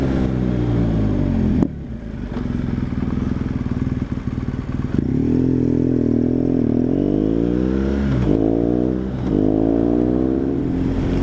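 A motorcycle fitted with a Leo Vinci SBK carbon fibre exhaust revs hard and close, its deep note climbing and falling through several throttle blips, with no talking over it.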